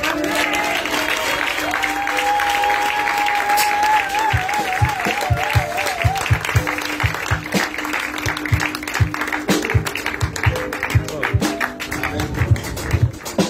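A church congregation claps to acclaim the Lord, steady rhythmic applause from many hands building under sustained organ-like tones and a solo voice, with a few sharper clusters of claps toward the end.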